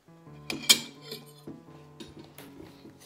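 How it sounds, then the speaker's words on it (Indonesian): Cutlery clinks against a plate as someone begins eating fried rice: a few sharp metallic taps and scrapes, close and sparse, with quiet gaps between them. "Sekarang kita makan nasi goreng."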